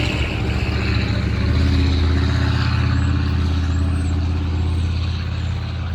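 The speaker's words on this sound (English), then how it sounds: "Every noisy truck has decided to come by today." Noisy truck passing by a garden, a loud, steady low engine rumble with hissing brakes that fills the whole stretch without any voices over it.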